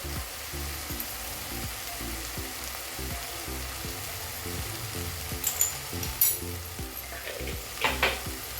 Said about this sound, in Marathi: एखादा मिनिट अजून जरा परतून घेऊया